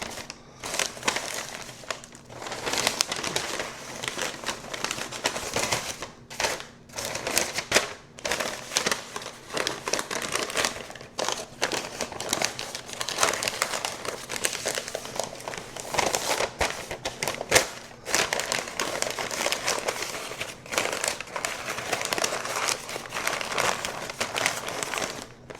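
Smoked beef short ribs, dino ribs, get wrapped in butcher paper, giving continuous close crinkling and crumpling with sharp crackles and rustles through the whole stretch, almost no talk over it.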